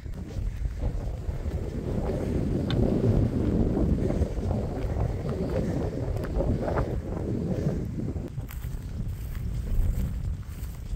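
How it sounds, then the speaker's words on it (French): Wind buffets a microphone outdoors along a walking route in Albania, making a continuous, heavy, rumbling roar that swells and eases slightly throughout. "Je sais pas si vous m'entendez bien avec le vent."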